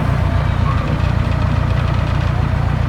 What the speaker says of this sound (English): This locomotive, number 40, was originally used at Kaiser Steel Company down in Fontana, California